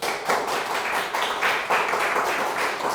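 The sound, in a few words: congregation applauding in church service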